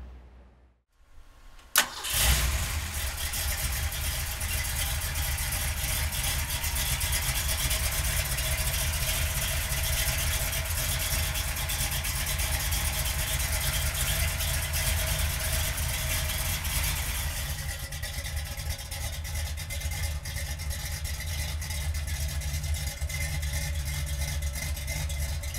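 A 1964 Ford Fairlane Thunderbolt tribute with a 427 center-oiler V8 and dual 600 CFM carbs cranks and catches, then settles into a loud, steady, throaty idle that rumbles close by for over twenty seconds with no talking.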